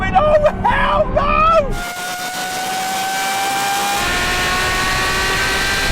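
A Ferrari and a Lamborghini Revuelto race past: a rising engine whine and shouting voices give way to a high sustained engine tone and road roar as the supercars pull away.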